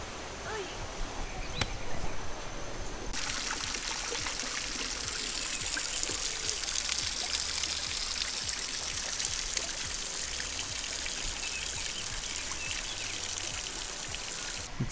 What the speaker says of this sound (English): so peaceful to walk along these little streams